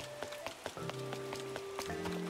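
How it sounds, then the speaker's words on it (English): Rain falls in the video game Animal Crossing: New Horizons, a soft steady patter with scattered droplet ticks, heard quietly alongside faint tonal game music. "But it's really much raining today."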